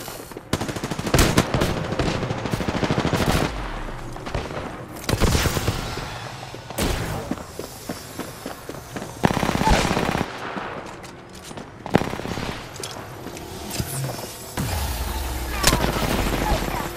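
Bursts of automatic gunfire and shots ring out in an Apex Legends match, rapid volleys alternating with short pauses, loud and close, with game effects between them.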